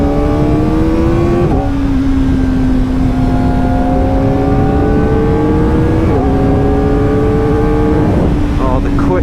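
A Kawasaki Ninja ZX4RR motorcycle engine drones loud and close under heavy wind while riding. Its pitch climbs steadily through several quick-shifter gear changes.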